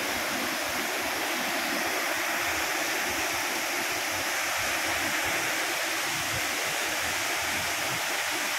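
Bolinao waterfall rushing with a loud, constant roar of falling water that stays dense and unbroken, close to the listener and with no voices.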